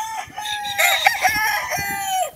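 A rooster among super brown red chickens crows clearly and close, one long drawn-out call lasting about two seconds with clucking fowl around it and no talk.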